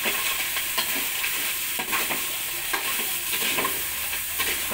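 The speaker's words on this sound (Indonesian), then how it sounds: "Kakulnya kita masukkan, kita goreng rata ya." Snails (kakul) fry in a pan for Balinese jukut kakul, stirred steadily: a continuous close sizzle with repeated scraping and clinking of the utensil against the pan, and no talking.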